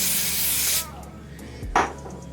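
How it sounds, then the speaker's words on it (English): A spray can sends a steady, close hiss of spray onto a wig worn over locs for about a second, then stops, followed by a short rubbing sound. "I'm going to spray another layer on."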